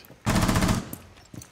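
Burst of automatic gunfire from Rainbow Six Siege, a dense rapid rattle lasting about half a second, loud and close, followed by fainter scattered shots.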